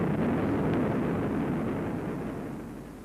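Explosive volcanic eruption of basalt, a loud, continuous low rumbling roar that fades slowly toward the end.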